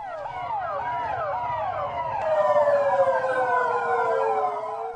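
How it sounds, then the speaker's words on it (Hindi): Several Delhi Police car sirens wail together in overlapping rising and falling tones, steady and moderately loud, swelling slightly as the vehicles draw closer. "सायरन बजाती दिल्ली पुलिस की गाड़ियां दौड़ी"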